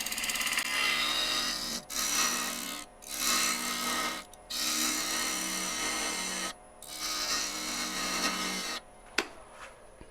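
A woodturning tool cuts a closed wooden form spinning on a lathe, giving a harsh, loud scraping rasp in several long passes broken by short pauses and a sharp tap near the end.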